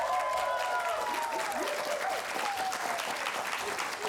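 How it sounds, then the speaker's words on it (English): Applause and cheering from a TV studio audience welcoming a guest, a dense, steady wash of clapping that fills the whole moment at an even level without pause. "Make some noise, please, for Sam Neill,"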